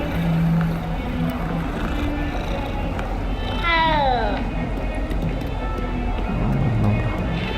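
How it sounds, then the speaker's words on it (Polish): A kitten in the Hogwarts Legacy video game gives a single short rising meow midway, heard over a steady game ambience with a voice talking around it. "Kolejny kociak."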